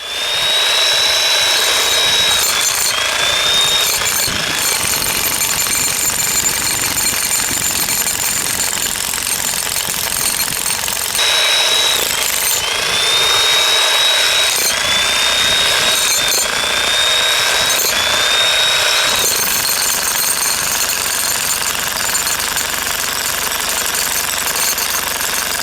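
An Xtreme Power electric jackhammer pounds into the ground with a loud, close, relentless rapid hammering that runs nonstop, broken only by a few brief pauses, while a high motor whine rises and falls above it.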